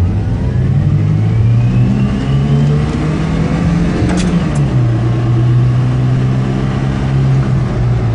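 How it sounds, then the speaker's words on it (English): A Be-1 PHEV car accelerates using both petrol and electric power. A steady, rumbling engine drone rises and falls in pitch with a gear change partway through, heard continuously from inside the car. "So we'll see how it goes with both petrol and electric power."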